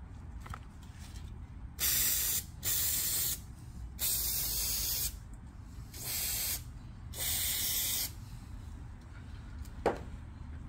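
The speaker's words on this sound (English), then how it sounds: "I'm just gonna kind of clean this with some brake cleaner." Brake cleaner sprayed onto Honda Fit front brake parts, several sharp hissing aerosol bursts of a second or so each with brief pauses between, close and fairly quiet.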